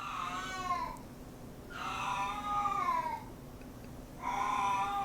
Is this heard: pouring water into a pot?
no